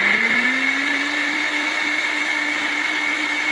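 A NutriBullet blender whirs steadily, mixing a tahini miso sauce made with veggie broth and seasonings, a loud, continuous motor drone close by with a slight pitch rise at the start and no talking.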